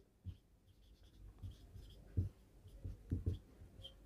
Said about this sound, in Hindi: दूसरी टर्म में लिखता हूँ